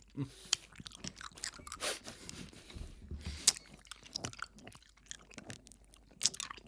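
Someone eats a tangerine close up, giving crisp, wet crunches and soft chewing at an irregular pace, with brief sharp bites standing out over a quiet background.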